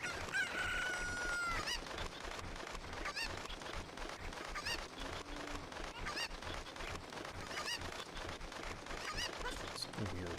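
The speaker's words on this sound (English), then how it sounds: "It's just sounds of chickens." Chickens cluck and a rooster crows in Zelda: Ocarina of Time with no music, the crow sounding near the start and scattered clucks continuing over a busy ambient background.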